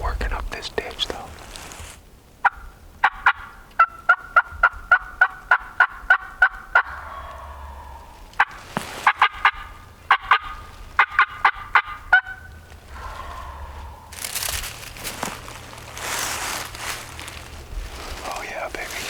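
Wild turkeys gobbling on public land in Georgia during a spring hunt: several close, rapid rattling gobbles in bursts, some overlapping, under hushed whispering from nearby hunters.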